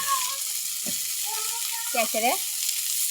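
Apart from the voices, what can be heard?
fish frying in a pan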